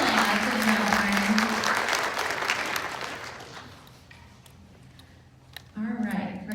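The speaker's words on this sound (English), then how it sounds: "Let's give Brian Almeida Gonzalez a round of applause" Audience applause at a Cleveland County Schools spelling bee swells loudly, then thins out and fades over a few seconds, with a voice speaking over the opening and another talking again as it ends.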